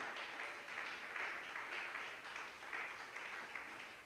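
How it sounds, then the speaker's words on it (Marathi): Steady applause from a large crowd at a church service fills the whole stretch, distant and even, without pauses. "किती लोक टाळ्या वाजून परत येणारे येशूला धन्यवाद देतील"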